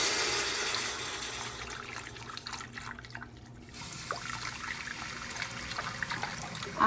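Liquid trickles and splashes as it is poured into a pressure cooker holding humanely raised chicken, a steady close pour with a brief lull midway and no talking.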